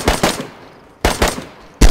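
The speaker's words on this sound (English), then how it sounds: "I'm shooting." Gunfire in the video game DayZ: three sharp bursts of close, loud shots, each a quick double crack, spaced about three-quarters of a second apart with ringing decay between.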